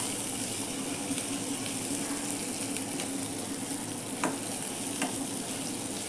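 Water pours into a simmering curry of potato, pointed gourd and lentil fritters, a dense, steady rush and bubbling with a couple of faint clicks.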